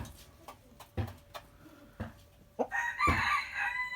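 Brahma chickens cluck and shuffle nearby with scattered knocks, then a Brahma rooster lets out a loud, drawn-out crow close by.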